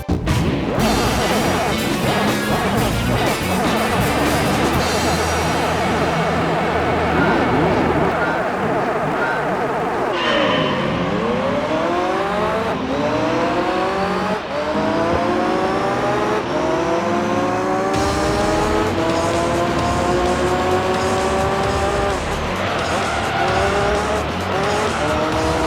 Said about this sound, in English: hit the wall, and the wall has hit me, and I've been hit by other cars